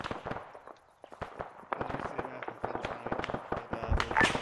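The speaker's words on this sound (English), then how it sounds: "We have more contact north. Copy, we're shooting already." Gunfire in the Arma 3 video game during a counterinsurgency firefight, a rapid scatter of sharp shots and bursts at mixed distances, some faint and some louder, growing denser toward the end.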